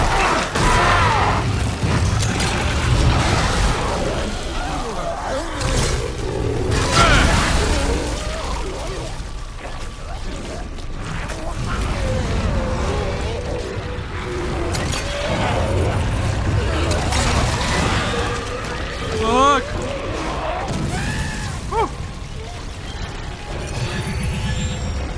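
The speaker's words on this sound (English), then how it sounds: "Oh, all the explosion!" Explosions tear through the Dead Space Remake's sci-fi horror setting, a dense, continuous wash of loud crashing, rumbling and clanking debris that carries on for the whole stretch.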